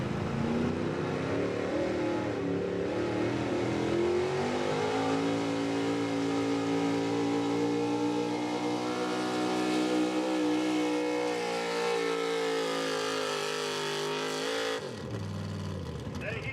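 A small block high output gas 4x4 pulling truck engine revs hard and steadily at a pulling event, a loud sustained roar with rising harmonic pitch that cuts off abruptly near the end, with announcer talk over it.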